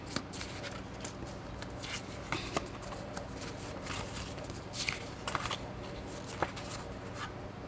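Scissors snipping paper and tags for a mixed media junk journal on a desk, a run of crisp irregular cuts and rustles, close and moderately loud with no talking.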